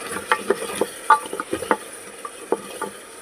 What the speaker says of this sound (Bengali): এটা ভালো করে কষানো হোক